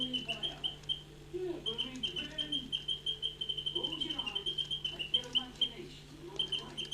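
A wind-up mechanical singing bird toy chirps and trills continuously at close range, with rapid whistled tweets over a steady mechanical hum and faint whirring from the clockwork mechanism.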